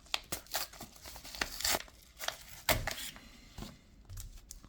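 Paper mail envelopes holding Magic: The Gathering cards are torn open by hand, with a run of crisp ripping and crinkling bursts spread across the stretch, close and fairly loud, and no talking.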